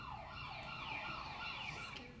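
Wailing emergency sirens rise and fall continuously, a loud, layered sweep like ambulance or police vehicles, heard alone without speech.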